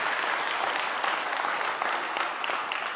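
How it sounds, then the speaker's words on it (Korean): A church congregation claps together in sustained, even applause, dense and steady throughout without voices on top. "하나님께 영광의 박수"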